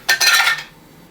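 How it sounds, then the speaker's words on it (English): Ice cubes clatter into a cocktail shaker holding vodka, lemon juice and St-Germain for a French 75 variation, a short, close rattling burst of about half a second that then fades to quiet. "Add some ice."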